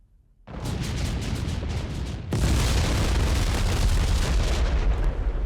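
Bombs exploding on a factory in the IL-2 flight game, a dense roaring barrage of blasts that swells louder partway through and keeps rumbling heavily to the end.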